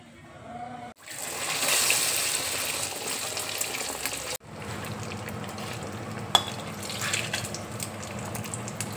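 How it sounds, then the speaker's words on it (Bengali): An egg-coated Mughlai paratha is lowered into hot oil and fries with a loud hiss and sizzle after two abrupt cuts. There is bubbling crackle throughout and a sharp click partway through. "এবার আমি তেলের মধ্যে ছেড়ে দেবো।"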